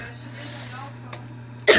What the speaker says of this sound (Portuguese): Tô com tosse aqui.